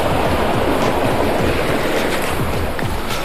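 Strong river water of the Kallada river rushes beneath a rock, a steady loud broadband roar with wind buffeting the microphone and no talking.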